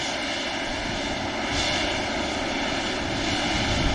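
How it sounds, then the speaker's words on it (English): Emirates Boeing 777 starting its takeoff roll on a return flight to Dubai, jet engines in a loud sustained roar that swells slightly partway through, heard alone without voices. "Emirates 777 lined up for the return to Dubai in the Middle East"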